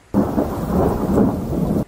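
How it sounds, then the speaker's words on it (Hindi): A rain scene in a radio drama: heavy rainfall with a deep rolling rumble of thunder starts abruptly and fills the whole stretch, dense and loud, then cuts off at the end. "बारिश हो रही थी और वो अकेला कमरे में बैठा जल तल देख रहा था।"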